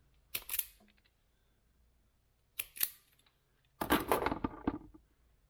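Speaker wire is snipped during a rear speaker install in a 350Z convertible, three crisp metallic cutting snaps spaced a couple of seconds apart, the last followed by a longer burst of rustling and clicking, close and fairly quiet.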